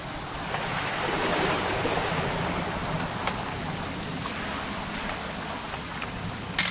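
Continuous rain in the video game What Remains of Edith Finch forms a broad, steady wash of noise that swells slightly and holds without pause, with no voices present.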